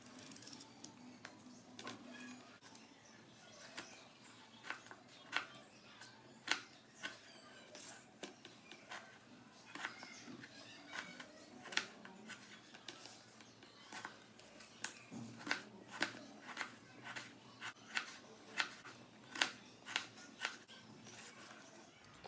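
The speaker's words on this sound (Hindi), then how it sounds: "आलू को अभी लंबा लंबा काट लेंगे।" Knife cutting potatoes into long strips on a board, a steady run of sharp, quiet clicks and taps repeating at an uneven pace for some time, close up with no talking.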